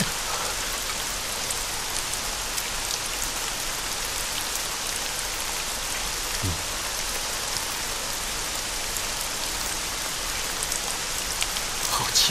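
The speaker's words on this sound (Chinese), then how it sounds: "怎么下雨了？" Steady, even rain falls on surfaces throughout, a dense broadband hiss with no voices and no thunder.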